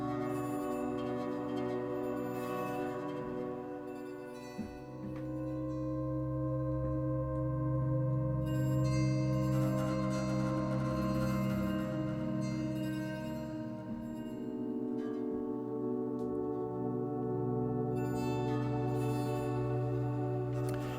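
Sustained, shimmering guitar tones from a Kontakt virtual instrument wash together in a thick reverberant haze, notes blending into a continuous ethereal drone that swells and settles gently.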